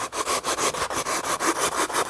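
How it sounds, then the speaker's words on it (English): A drill rasp scrapes rhythmically through a soft plaster sculpture block, hollowing out its middle in quick repeated rasping strokes, close and steady, with no talking. "It's called a drill rasp."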